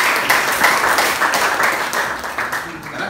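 Audience applause in a classroom after a student presentation, dense continuous clapping from a group at fairly close range, steady for the full stretch and easing slightly toward the end.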